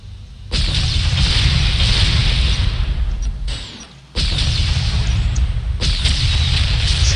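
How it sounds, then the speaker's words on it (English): Loud, booming artillery-like blasts and explosions from a tank being shot in the real-time strategy video game M.A.X. They come in sustained bursts, broken by a brief drop around the middle. "he shot my tank"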